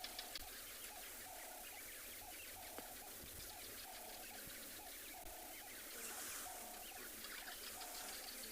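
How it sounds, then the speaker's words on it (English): Cape turtle doves sing at sunset on safari, a repeated mid-pitched cooing phrase returning roughly every second or so at a steady rhythm, moderately distant over a dense hiss of insects and evening ambience, with barking geckos starting up. "You can hear the Cape turtle doves singing."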